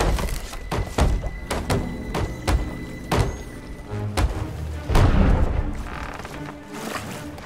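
Ship cannons firing in the pirate game Sea of Thieves, a series of dull booming thuds spaced irregularly over several seconds, with a heavier blast near the end, amid game noise.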